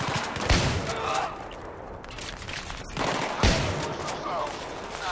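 Shotgun blasts in Battlefield 3, two sharp, loud shots about three seconds apart amid ongoing battle gunfire and din, close to the player.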